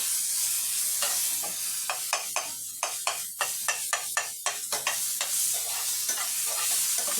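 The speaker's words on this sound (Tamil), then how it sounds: "கொஞ்சம் நேரம் புதினா பச்சை மிளகாய் வதங்கட்டும்." Mint and green chilies sauté in a pan with a steady close sizzle, cut by a run of sharp, regular stirring scrapes through the middle and no voices.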